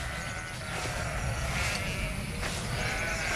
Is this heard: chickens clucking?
no